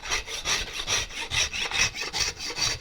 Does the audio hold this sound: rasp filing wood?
yes